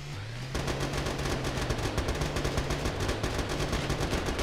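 Sustained automatic gunfire from armed vehicles in the combat game Scraps, dense rapid shots that start after a brief lull and continue loud and unbroken.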